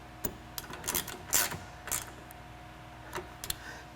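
Ratchet clicking in short irregular bursts while tightening M8 fasteners on Ford Bronco 2-door rear window MOLLE panels, close and fairly quiet, with metallic ticks and pauses between strokes.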